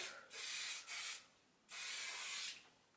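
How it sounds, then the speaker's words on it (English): Two to three short hissing bursts of hairspray from an aerosol can onto curled hair, close and soft, separated by brief pauses. "Spray a little bit of hairspray,"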